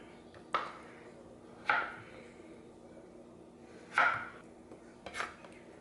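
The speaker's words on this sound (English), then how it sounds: "I'm just gonna chop up this other half and get it in there." A knife chops vegetable halves on a cutting board while a summer recipe is made: four crisp, separate chops at uneven intervals, fairly quiet against a soft background hum, with no talking.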